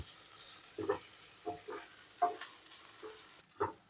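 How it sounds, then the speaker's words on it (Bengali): Chowmein ingredients stir-fried in a pan, a faint hiss of sizzling with several scraping stirs of a spatula at irregular intervals, no voices. "দিয়ে ভালো করে আবার আমরা এটাকে নিয়ে ভেজে নেব"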